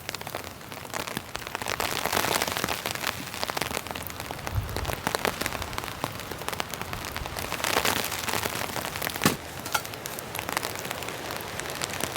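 Heavy rain mixed with hail drums steadily on the fabric of a hot tent at a winter campsite, a dense, loud patter with sharper scattered impacts throughout and no voices.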